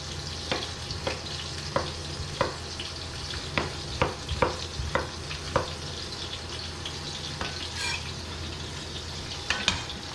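Diced potatoes and carrots for picadillo cook in a pan with a steady low sizzle, broken by a series of sharp scrapes and knocks as a utensil stirs them at uneven intervals.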